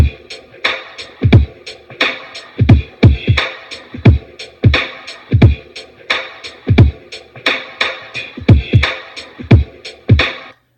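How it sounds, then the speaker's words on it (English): A simple programmed drum pattern loops steadily: punchy kicks, crisp snare hits and ticking hi-hats repeat in an even rhythm, loud and up front with no other instruments or voices. "came up with a pretty simple kick, hi-hat, snare pattern, and that sounds like this"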